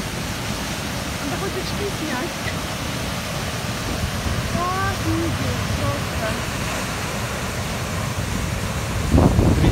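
A waterfall in Antalya pours in a steady, loud roar of rushing water that fills the whole scene, while people talk excitedly over it.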